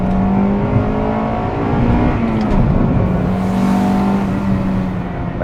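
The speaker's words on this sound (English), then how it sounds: "it's nice to know the high-revving NA motor is still going strong" A 1995 Acura Integra GS-R's high-revving naturally aspirated engine holds a loud, sustained whine with small pitch shifts as it revs, with no voices over it.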